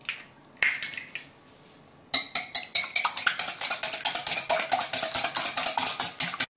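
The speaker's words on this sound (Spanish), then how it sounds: "Batimos un huevo." A fork whisks an egg in a bowl while making dough for hojuelas: a few scattered clinks at first, then a fast, steady run of sharp metallic taps against the bowl, close and crisp.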